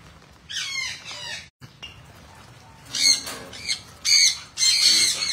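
Birds squawk in several harsh, scratchy bursts, fairly close, separated by quieter gaps with faint background noise.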